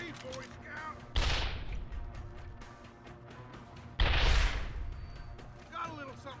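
Two heavy explosions from a thrown bomb in Deus Ex: Human Revolution, each a sudden loud blast about three seconds apart that fades into a rumbling tail, with faint voices and game sounds between them.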